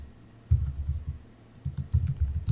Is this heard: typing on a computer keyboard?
yes